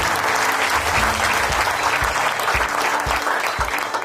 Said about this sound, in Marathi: म्हणून स्वतःसाठी जोरदार टाळ्या वाजवा.